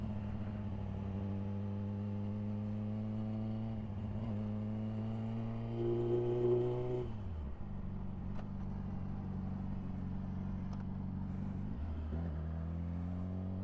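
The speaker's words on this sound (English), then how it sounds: "I do need to accelerate through the gears super quickly, or it's just gonna be super loud" Yamaha R6 motorcycle accelerating quickly through the gears while riding around town, a steady engine drone heard from the rider's position that climbs in pitch and drops at each quick upshift.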